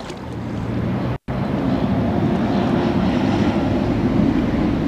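Steady, loud wind buffets the microphone beside the River Trent at an urban pole-fishing spot, a continuous low roar with one brief dropout and no talk.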